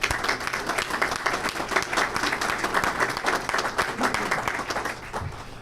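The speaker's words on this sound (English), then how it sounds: "I think city staff and the elected officials deserve a round of applause for that." A crowd applauds city staff and elected officials at a State of the City event in Elmhurst, steady dense clapping from a sizable audience that holds throughout and thins slightly at the end.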